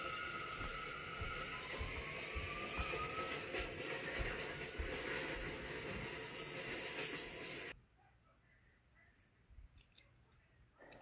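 A New York City subway train, a Manhattan-bound F local, rumbles and rattles along with a steady roar and faint squeals, then the noise drops away abruptly into quiet.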